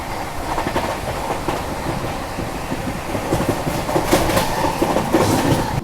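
The Ranchi Rajdhani Express pulls out of Kanpur Central station, wheels clattering over rail joints in a steady clickety-clack that grows louder and busier as the train picks up speed, with no voices.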